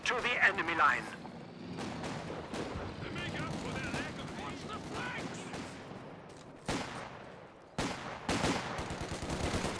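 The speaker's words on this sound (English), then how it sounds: "MG coming in from the bottom, suppressing all these troops." Machine gun bursts and artillery thuds crackle through a Company of Heroes 2 battle, with dense gunfire throughout and sharp reports near the end, while a commentator talks over the action.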